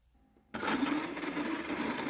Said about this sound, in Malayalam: അപ്പോൾ കുരുവൊക്കെ മാറ്റിയിട്ട് ഇനി ഇതിലേക്ക് ഇട്ട് കൊടുത്തിട്ട് ഇത് നന്നായിട്ടൊന്ന് അടിച്ചെടുക്കുക